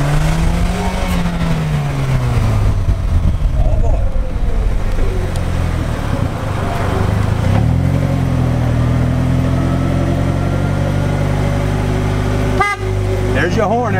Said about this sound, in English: There's your horn, everybody.